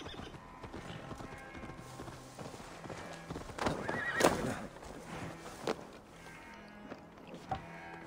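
In the video game Assassin's Creed Valhalla, a horse's hooves clip-clop and a loud whinny rises midway, with fainter snorts and movement around it and no talking.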